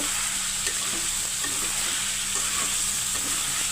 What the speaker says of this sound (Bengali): আলু দিয়ে একটু সুন্দর করে আবার নাড়াচাড়া নাড়াচাড়া করে দিব